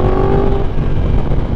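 A Yamaha YZF-R1 sport motorcycle's engine roars loud and close in a continuous revving drone, with a brief rising tone early on and nothing else over it.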